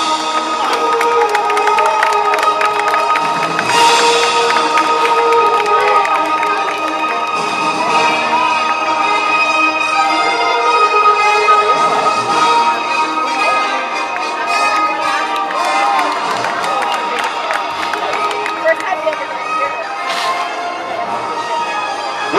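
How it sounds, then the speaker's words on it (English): Crowd at a state fair rodeo cheering and applauding after a flag presentation, loud and continuous, with whistles, whoops and clapping layered over arena noise. "a round of applause for Miss Sandy Van."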